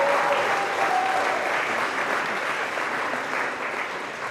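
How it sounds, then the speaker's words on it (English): Supporters at an Angie Craig campaign speech break into sustained, dense applause from a crowd, steady throughout and fading gently toward the end. "give yourself a round of applause for the amazing effort in this district"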